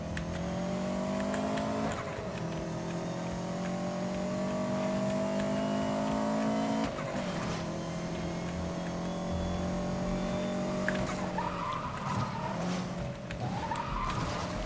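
A race car in Need for Speed: Most Wanted (2012) screams at high revs, its engine pitch climbing and dropping through gear shifts, tires skidding and squealing in places over about fifteen continuous loud seconds.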